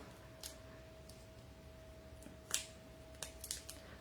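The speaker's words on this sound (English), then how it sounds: "These aren't the best of scissors to cut with." Scissors snip in a few quiet, sharp clicks, spaced irregularly, with a faint steady hum in the background.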